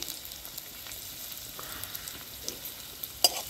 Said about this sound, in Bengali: ভালো করে আমি নেড়ে হালকা ভেজে নেব